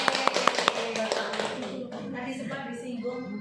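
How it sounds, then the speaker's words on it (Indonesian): Applause for a presentation at a teachers' dissemination session: a quick run of several distinct, crisp hand claps at the start, then a speaking voice takes over as the clapping fades. "Beri aplaus dulu ya."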